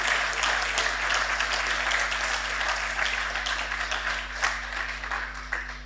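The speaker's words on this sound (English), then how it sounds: "Ladies and gentlemen, please, a round of applause for our panelists." Audience applause for panelists at the close of a young entrepreneurs' panel discussion, steady dense clapping throughout, with a low electrical hum underneath.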